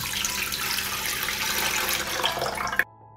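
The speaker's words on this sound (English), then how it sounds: "I pour a liter of water into a deep pan." A liter of water pours steadily into a deep pan, a continuous splashing rush from a tap or jug that cuts off abruptly near the end, leaving near silence.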